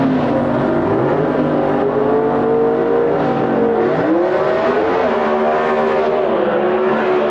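Ford and Chevrolet drag racing cars rumble and rev loudly at the start line of the 1981 NHRA Winternationals, engines holding a steady, throaty idle with rising and falling throttle blips throughout.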